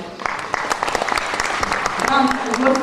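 An audience applauds at a charity concert in Korets featuring a children's music school pop orchestra, a dense burst of clapping that builds and holds, with an announcer's voice speaking over it.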